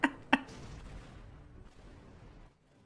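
Explosion in the destruction sandbox game Teardown: two sharp blasts in quick succession, followed by a rumbling debris tail that fades out over about two seconds.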